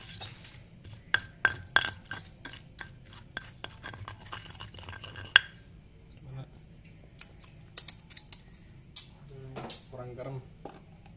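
A spoon stirs a tempeh satay mixture, giving sharp scattered clinks and scrapes against a bowl in irregular bursts, with low talk underneath.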